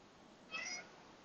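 A single short cat meow, clear and fairly close, rising briefly out of a quiet indoor room with faint background hiss.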